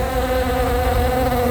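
A housefly buzzes loudly and steadily close to the listener, a continuous droning whine with no pauses and no voices.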